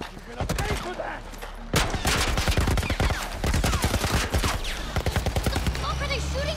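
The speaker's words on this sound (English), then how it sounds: "What the fuck are they shooting at us with?" Military turret gunfire in The Last of Us video game: rapid, loud bursts of automatic shots in quick repeated volleys, close and relentless, with short pauses between strings of impacts.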